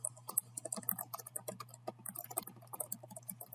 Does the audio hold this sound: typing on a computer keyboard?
yes